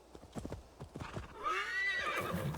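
A horse gallops off in Assassin's Creed Valhalla, its quick clip-clop hoofbeats starting near and spreading into a loud neigh and whinny toward the end.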